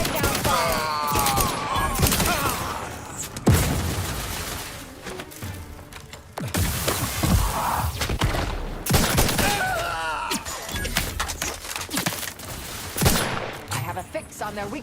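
Gunfire in The Outer Worlds 2, near and loud, with repeated volleys of shots and thuds layered over a dense combat din for the whole stretch, punctuated by sharper bangs.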